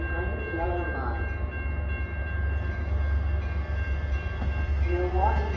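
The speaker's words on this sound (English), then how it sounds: "2614 to Chicago Union Station is now arriving. Please step behind the yellow line." A Metra commuter train, number 2614 bound for Chicago Union Station, pulls into Lake Forest station with a low steady rumble and rolling rail noise, while a station announcement plays over it.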